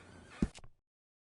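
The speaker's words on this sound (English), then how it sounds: "Hey, good-looking horse there." A horse whinnies in Red Dead Redemption 2, one short, fairly faint neigh that is followed by a soft snort or clop and then silence.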